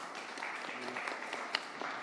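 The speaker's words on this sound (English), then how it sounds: "So first, a huge round of applause for them." An audience at a finance summit claps for the panelists, a soft, distant patter of hands that stays fairly even, with voices murmuring over it.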